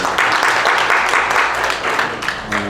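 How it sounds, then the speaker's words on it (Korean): A church congregation claps together in a thanks round, a dense steady burst of applause lasting a few seconds indoors, with a voice briefly audible near the end. "우리 박수로 감사드리겠습니다."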